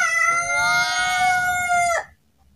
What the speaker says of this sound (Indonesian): Suara ayam ya, itu ayam kampung ya.